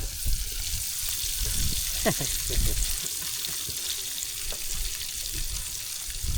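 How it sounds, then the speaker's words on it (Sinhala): Sausages frying in a pan outdoors during a trip, a steady broadband sizzle running throughout with a few brief clinks and faint stirring or water sounds mixed in. "සොසේජස් බදිනවා"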